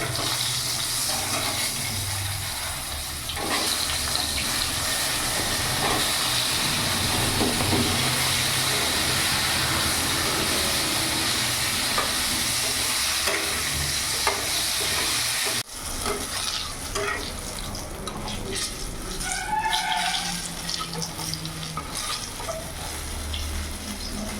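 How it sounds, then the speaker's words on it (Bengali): Eggplant pieces seasoned with turmeric and salt fry steadily in hot oil, a continuous loud sizzle with bubbling that shifts partway through as the pieces are moved. "বেগুনগুলো লাল করে ভেজে নিয়েছি"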